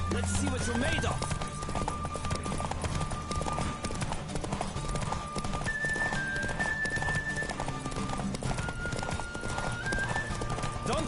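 Horse hooves gallop in a fast, steady clip-clop during a race in The Witcher 3, loud and continuous, with occasional whinnies, a rider's shouts and game sounds layered over the running.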